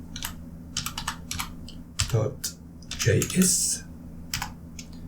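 Rapid clicks of computer keyboard keys clatter in uneven bursts, close and crisp, with a firmer keystroke like an enter press, while a person talks quietly over them.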